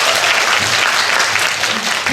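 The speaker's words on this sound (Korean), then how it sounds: "박수 한번 부탁드릴게요" A theatre audience at a Korean cine-talk for the film After the Storm claps together in dense, sustained applause, loud and close, filling the whole moment.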